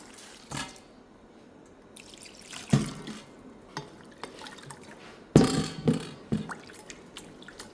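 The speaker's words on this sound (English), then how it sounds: "After you wash the shrimp 3 times already, I wash again with tapioca starch." Shrimp in their shells are swished and rinsed in water, with splashy sloshes and soft drips in irregular bursts, up close and with no voices.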